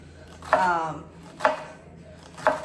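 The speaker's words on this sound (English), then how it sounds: "Cut up an onion." A knife chops an onion on a board in a home kitchen, landing three evenly spaced, crisp strikes about a second apart, close and fairly loud.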